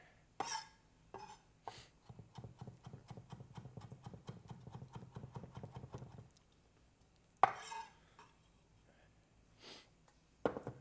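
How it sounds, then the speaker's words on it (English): Quick, steady knife chops on a cutting board through herbs in a fast even rhythm, with a few louder isolated knocks before and after. "It makes chopping it so much easier."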